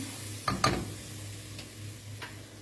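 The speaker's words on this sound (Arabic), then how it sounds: "وهقلب بسرعه عشان افك تكتلات الدقيق بالشكل ده" A flour roux is stirred with pasta water in a pan for béchamel, giving a couple of quick scraping strokes and light clicks over a faint, steady sizzle, close by.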